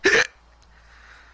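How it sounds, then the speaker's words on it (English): A single sharp, voiced hiccup bursts out loud and close, followed by near silence. "Oh, the hiccups."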